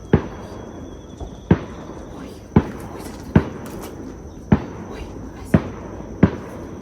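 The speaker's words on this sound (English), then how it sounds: "So we are hearing fireworks, even though that it's broad daylight." Distant Fourth of July fireworks go off in daylight, a series of about eight sharp pops at uneven intervals over a quiet outdoor garden background.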